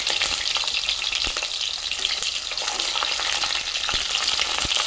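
Eggplant pieces fry in hot mustard oil in a pan, producing a loud, continuous crackling sizzle close up, with occasional sharp clicks as the pieces are stirred or shifted.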